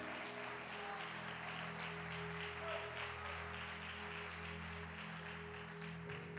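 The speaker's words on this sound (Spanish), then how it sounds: "Aplaude con fuerza." A church congregation claps at a preacher's urging, a steady, even wash of many hands sustained for several seconds, fairly distant and soft, with a faint musical tone underneath.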